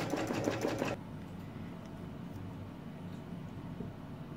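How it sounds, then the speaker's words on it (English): Embroidery machine sewing a tack-down stitch, a rapid loud mechanical stitching burst for about a second, then a faint steady hum and ticking. "we're going to go ahead and let it do the tack down stitch for that part"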